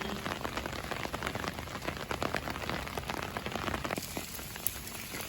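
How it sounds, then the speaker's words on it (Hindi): Heavy, continuous rain pours down in Mirpur, Azad Kashmir, a dense hiss of drops striking surfaces close by with no letup, no voices heard. "बारिश नहीं स्पीड च फिलहाल कोई कमी नहीं हुई रही। इधर तक लगे सो लगातार बारिश"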